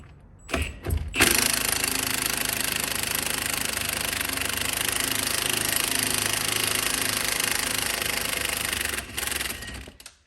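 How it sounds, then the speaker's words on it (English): An impact gun loosens the 15/16 nut and bolt of a shock absorber on a GMC motorhome: a loud, continuous rattling whir lasting several seconds after a couple of short bursts, then cutting off. "Now the impact gun makes this a lot easier"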